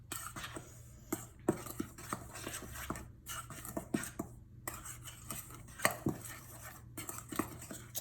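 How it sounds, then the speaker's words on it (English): A utensil stirs dry dough ingredients in a bowl, giving faint scraping and irregular clinks and taps against the sides, quiet and close with no talking. "Now we're gonna mix up the dry ingredients."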